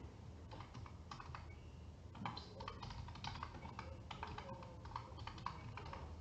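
Rapid keystrokes on a computer keyboard clatter in bursts with short pauses, close and fairly quiet, with no talking.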